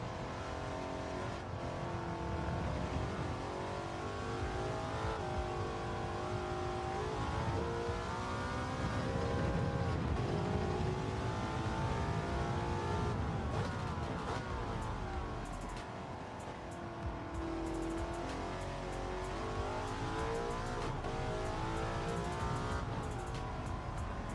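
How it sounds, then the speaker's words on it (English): A V8 race car engine in Gran Turismo 7 growls steadily and loudly throughout, rising and falling in pitch as it revs through gears, with a close, continuous roar and occasional dips as the car slows and accelerates. "This thing's got a growl to it"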